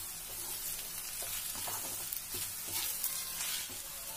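Okra frying in a pan with roasted gram flour and salt makes a quiet, steady sizzle with soft scrapes and taps of stirring scattered through, close by and with no talking.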